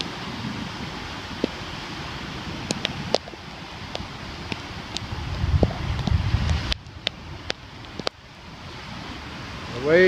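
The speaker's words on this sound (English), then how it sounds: "The waves come in, the waves go out." Ocean surf washes onto Grayton Beach on a rainy day, a broad, steady roar of waves that swells and recedes, mixed with gusting wind buffeting the microphone and a few sharp clicks.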